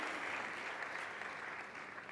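Steady, dense applause from the audience at the Teatro Giovanni da Udine during an economy and development awards ceremony, greeting award recipient Igor Spizzo; a continuous even wash of clapping at moderate level, with no voices.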